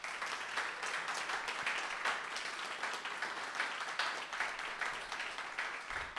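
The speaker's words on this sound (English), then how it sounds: "please join me in giving these folks a round of applause for being here." Steady, moderately faint clapping from an evening panel audience welcoming guests, sustained evenly without talk.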